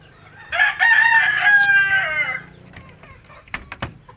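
A backyard rooster gives one loud, close crow lasting about two seconds, followed by a few short, quieter clucks and scratchy noises from the flock.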